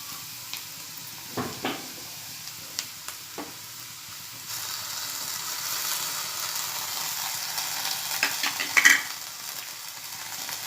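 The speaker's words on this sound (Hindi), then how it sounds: "अब मैं इसमें हरा मसाला डालूंगी।" Green masala going into a hot cooking pan: a few soft knocks and clinks, then a sizzling hiss that rises midway and continues steadily, with a brief scrape near the end.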